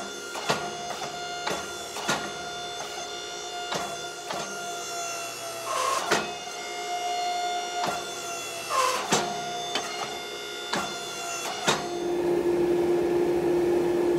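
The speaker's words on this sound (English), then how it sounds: "we're gonna throw this thing up under the press, square it up into a more usable stock size" A forging press squares hot scrap 1045 steel round stock, with a steady mechanical hum broken by repeated sharp clicks and thumps, ending in a sustained tonal drone.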